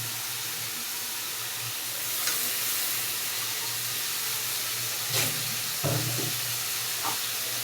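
Prawns hiss and sizzle in hot frying masala in a pan, a steady loud crackling broken by a few soft clinks and stirring sounds, with no voices.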